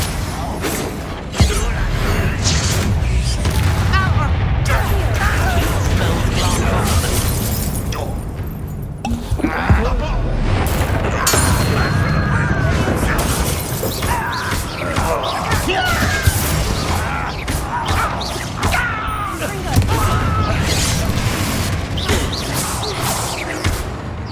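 Confringo blasting spells explode again and again in a Hogwarts video game fight, a dense, continuous barrage of loud crashes, bursts and whooshes with brief voice lines mixed in.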